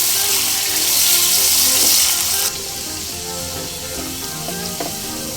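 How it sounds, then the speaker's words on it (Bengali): Potatoes coated in salt and turmeric frying in hot mustard oil over a medium flame, a loud close hiss that drops after a couple of seconds into a steadier sizzle with light stirring and clinks. "সরিষার তেল গরম হয়ে এলে আগে থেকে লবণ হলুদ মেখে রাখা আলুগুলো সব দিয়ে দেব মিডিয়াম ফ্লেমে নেড়ে ছেড়ে লালচে করে ভেজে নেব"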